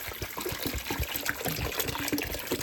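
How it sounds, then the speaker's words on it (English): Water pours steadily into a pot for fish broth, a continuous close splashing trickle with small gurgles and no talk. "And I'm gonna pour the water in there."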